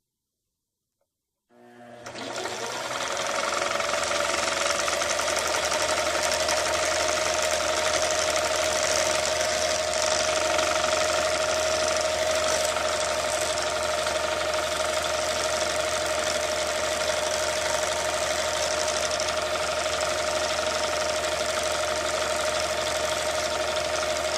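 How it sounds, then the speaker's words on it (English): A machine winds thread onto a spool in a steady, loud, continuous whir with a constant tone, starting abruptly after a short silence and running unbroken to the end. "I hold the thread in my hand and move it up and down to make sure the thread goes onto the spool evenly"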